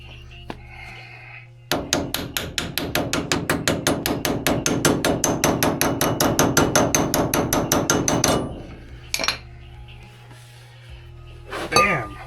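A hammer rapidly drives bearings onto a first-generation Mazda RX-7 front hub, about forty sharp, evenly spaced metallic strikes in a steady burst, loud and close, followed by a few scattered knocks.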